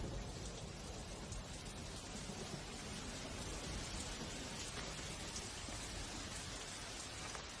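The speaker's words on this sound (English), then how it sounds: "The monsoon rain feeds the tropical flora and fauna." Monsoon rain pouring steadily over tropical forest, a dense, even roar of drops on surfaces without letup, fairly full and close, no voices.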